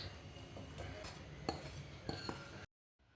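A spoon stirs and clinks against a bowl of amla gooseberry pickle, a series of soft scrapes and a few sharp metallic taps, close and fairly quiet, ending in a short silence.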